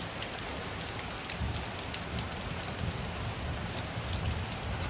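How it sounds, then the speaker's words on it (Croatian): Steady rain pours down outdoors, a dense, even hiss of drops striking surfaces with no pauses, moderately loud and constant. "pogledajte kako kiša pada"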